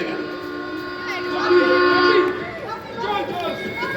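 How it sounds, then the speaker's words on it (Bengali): A stage-play train effect for a school drama: a loud steady whistle tone holds for about two seconds, swells, then fades as the train departs, with voices talking over and after it. "হুইসেল দিয়ে ট্রেনটা চলে গেল।"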